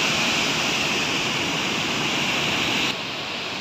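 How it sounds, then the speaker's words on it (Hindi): Ganga river water roars through the barrage at Narora in a steady, loud, broadband rush that fills the whole clip, dropping slightly in level near the end. "पानी आवाज़ करते हुए"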